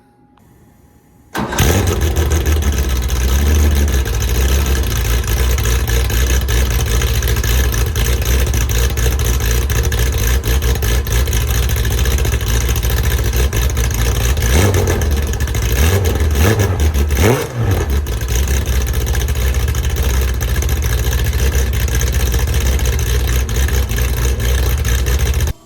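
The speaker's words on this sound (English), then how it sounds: "I'm going to do a cold start, let you listen to it when it's just getting fired up in the morning" A 1973 air-cooled Porsche 911 fitted with a GT3 muffler cold-starts after a brief crank, then settles into a loud, steady, raspy idle with a couple of short blips midway.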